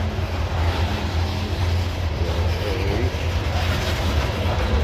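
Slow-moving CSX coal train cars rolling past on the climb up Parrs Ridge near Bartholows, Maryland, a steady, loud low rumble with faint rail clatter throughout, no talking.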